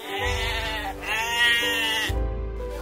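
A young goat, a kid too small for sacrifice, gives close bleats: a long wavering cry, then another after a short pause, over low background noise.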